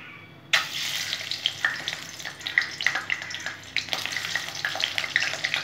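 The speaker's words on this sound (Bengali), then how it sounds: "এখন আমি ভেজে নেবো ডিমগুলো।" Eggs sizzle and crackle steadily in hot oil in a pan, the frying starting abruptly and continuing with irregular pops and spits, close and moderately loud.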